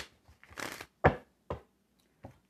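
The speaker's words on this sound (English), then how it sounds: "They want me to shuffle three more times." A deck of tarot cards is riffled and shuffled in a quiet room, with one longer shuffling burst followed by several short, sharp card snaps and taps.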